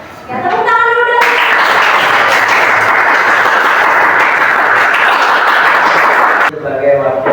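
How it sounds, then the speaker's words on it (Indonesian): A school class in a sociology lesson claps together: a burst of steady, close applause lasting about five seconds, with children's voices speaking before and after it. "Ya, tepuk tangan dulu dong."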